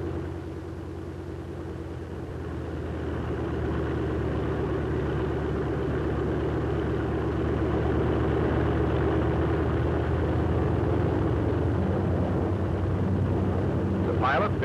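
A Grumman TBF/TBM Avenger's piston engine roars steadily through a flaps-down takeoff, a loud continuous drone that swells and holds, with a voice talking over it.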